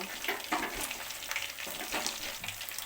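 Chicken pakoras frying in hot oil, a continuous bubbling sizzle with occasional crackles and light scraping, steady and close throughout.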